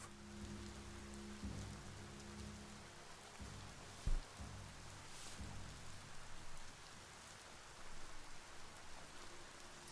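Steady rain patters on surfaces with a constant hiss in the video game Biomutant, a few brief low rumbles and thumps underneath, no voices.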